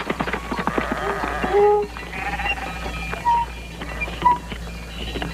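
Sheep bleating in a shelter set in a hollow of a plateau, several short wavering calls spread through the clip at mid distance over a low rumble.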